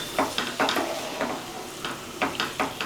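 Mutton roti curry being stirred and tossed in a pan, with repeated scraping strokes over a steady sizzle, close and fairly loud with no talk.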